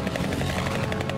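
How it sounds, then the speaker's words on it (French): Cartoon small airplane engine droning steadily overhead, a continuous buzzing hum with no talk over it. "Quand est-ce que Lenny a appris à piloter un avion?"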